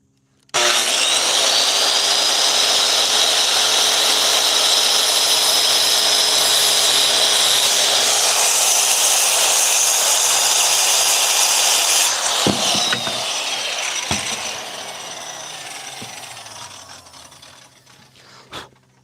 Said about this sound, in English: And we got our saw here.